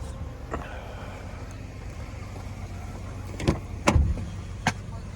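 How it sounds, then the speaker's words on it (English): A 2017 GMC Acadia's power liftgate operates with a low motor hum under steady background noise, followed by a couple of sharp latch clunks and thuds near the end. "power liftgate in the back"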